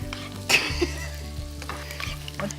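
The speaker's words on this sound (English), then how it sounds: "Quick stir through." Corned beef hash frying in a pan and being stirred, with a steady close sizzle under a quick scraping stir that flares briefly near the start, then settles back to continuous frying.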